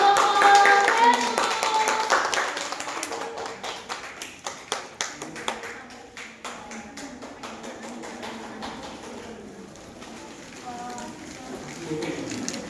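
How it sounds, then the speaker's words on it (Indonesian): An elementary school class claps hands together during a group presentation, an uneven burst giving way to a series of distinct rhythmic claps, then scattered taps, with children's voices around. "Beri tepuk tangan dulu buat"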